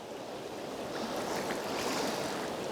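Soft, continuous rush of river water flowing past on a fly-fishing stream, fairly faint and steady with a gentle hiss that swells slightly midway, no voices.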